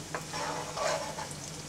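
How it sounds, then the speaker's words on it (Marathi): Onion is stirred and fried in a pan, a short burst of soft sizzling with the scrape of a spoon moving through it, close and moderately loud. "लाल करायचा आता कांदा जरासा"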